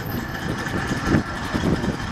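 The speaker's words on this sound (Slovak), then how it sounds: "aký tieto motory mali jednoducho zvuk." A heavy Maybach tank engine runs steadily with a deep, rumbling drone that holds at constant loudness throughout.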